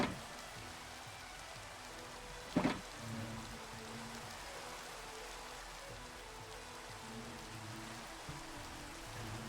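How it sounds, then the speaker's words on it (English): Steady rain patters down throughout in the Minecraft video game, a continuous hiss with one brief sharper crackle partway through. "Working out in the rain."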